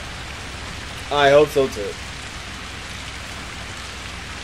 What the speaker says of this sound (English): I hope the rain stops soon.